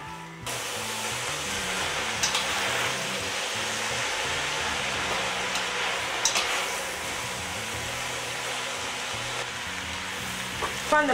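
Vegetables with julienned cabbage fry in a pan for spring rolls, a steady loud sizzle that runs unbroken throughout, with a few faint clinks of a utensil stirring.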